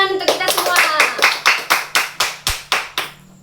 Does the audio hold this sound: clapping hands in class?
yes